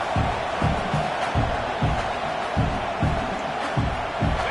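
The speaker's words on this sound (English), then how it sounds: "how nice is it to have the home crowd going absolutely bananas?" A home crowd at a Texas versus Nebraska football game roars loudly and steadily throughout, a dense continuous wall of cheering with rhythmic low thumps pulsing underneath, likely stomping or drumming.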